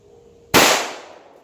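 One loud, close gunshot from a Judge revolver firing 36 gauge ammunition, a sharp blast followed by a brief decaying tail, with no voices.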